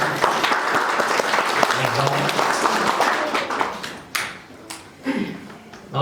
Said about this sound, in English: Shall we clap our hands?